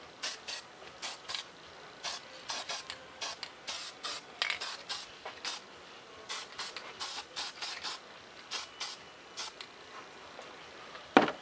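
Short bursts from a spray can lay another coat of paint on a small cut-out model aircraft part, a rapid irregular series of close hisses ending with a sharper click.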